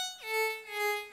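A Serum synth voice on a single monophonic oscillator sliding down in pitch then holding one clean, buzzy note with a gentle pulsing swell, solo and moderately quiet.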